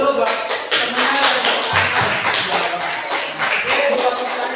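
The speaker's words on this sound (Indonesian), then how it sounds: "Berikan tepuk dulu buat temannya." A classroom of students claps for a classmate in a loud, dense burst of applause that carries on steadily for several seconds, close and energetic, with no words spoken.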